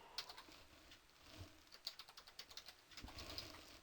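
Soft, quiet keystrokes on a computer keyboard as a password is entered, an irregular run of light taps building into a quicker cluster near the end.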